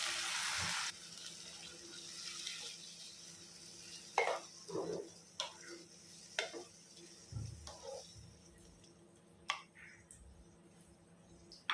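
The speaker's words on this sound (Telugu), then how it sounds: "ఇప్పుడు మీకు కావాల్సిన గ్రేవీ కన్సిస్టెన్సీ బట్టి వాటర్ వేసుకుని కలుపుకోవాలి" Water added to a tomato curry with broad beans, then stirred in the pan: a brief splash of pouring followed by quiet, irregular scraping and soft clinks of a spoon at moderate distance.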